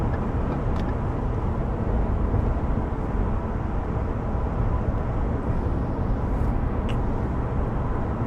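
Truck on a highway passing another truck, a steady, loud, broad road roar and rumble of engine and tire noise heard from inside the cab, continuous throughout with no talking.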